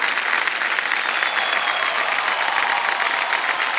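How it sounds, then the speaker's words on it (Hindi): Sustained audience applause fills a game show studio on Kaun Banega Crorepati season 13, a steady, even wash of clapping with no pauses or voices on top. "तालियां बज जाएं"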